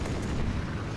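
Anti-aircraft guns being destroyed in Blazing Angels: Squadrons of WWII, a deep, rumbling explosion that fills the whole second at a loud, sustained level, with no voices.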